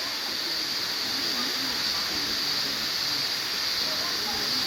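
Steady broadband rush of a middle waterfall in a brush turkey's nature habitat, a constant loud hiss of falling water filling the whole clip with faint bird or voice traces underneath.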